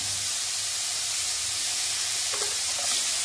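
Cauliflower fries for Gobi 65 fried rice in a hot pan, giving a steady, dense sizzle and hiss that stays loud and unbroken throughout, with faint stirring scrapes near the end.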